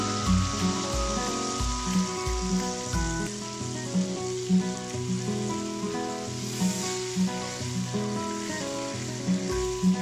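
Chicken stock (yakhni) is poured into fried masala for chicken angoori, giving a loud, steady sizzle and frying crackle with faint rhythmic background tones throughout, no talking.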